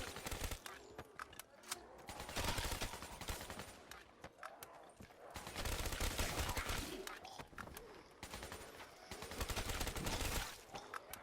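Gunfire from the Nacht zombies map in a video game: rapid bursts of shots crackle in clustered volleys with short gaps between, moderately loud and sharp, with faint game sounds around them.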